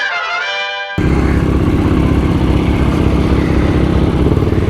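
A motor scooter engine revs hard and loud close by, a steady high-pitched buzzing drone held for several seconds after a brief tonal whine at the start, with no talking.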